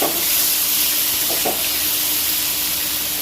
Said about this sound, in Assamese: ভাজিখিনি হওক অকণমান ৰঙা ৰঙাকৈ ভাজি কৰিম